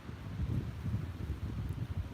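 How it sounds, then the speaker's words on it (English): Low, gusty wind rumbles against the microphone in uneven buffets, steady and fairly strong, with no talking. "It's a windy day today."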